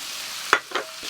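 Pork belly drops into a hot pan and bursts into a loud, close sizzle, with a couple of short stirring scrapes following.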